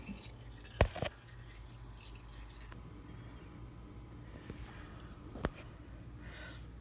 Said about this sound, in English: there's the oil just running out of the filter and running over the exhaust header.